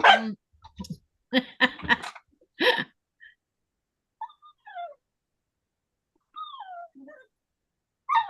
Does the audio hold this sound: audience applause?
no